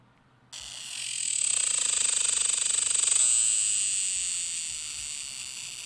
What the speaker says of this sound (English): I'm trying to get a video of cicada noise.